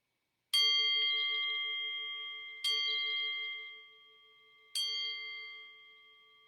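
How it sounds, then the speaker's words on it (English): A meditation bell is struck three times at slow, even intervals, each ring clear and bright with a long, sustained decay that overlaps the next strike, alone in a quiet room. "I'll ring the bell and bring us back into a conversational space"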